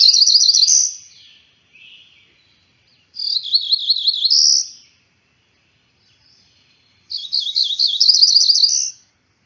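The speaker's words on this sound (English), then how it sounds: "Here's a different bird." A songbird delivers three bright, buzzy trilled phrases spaced a few seconds apart, with a faint short call between the first two. The phrases are clear and close, with nothing else around them.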